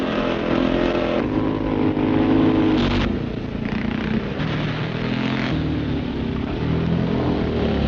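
Motorcycles scrambling over a sand and gravel pit in Essex during informal Sunday morning practice, engines droning and revving continuously at a loud, steady level with no voices.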